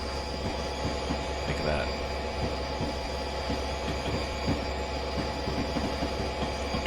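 A New Jersey Transit train in Train Simulator 2020 rumbles steadily through a tunnel with rhythmic clickety-clack of wheels on rail joints, loud and continuous, with brief talk over it.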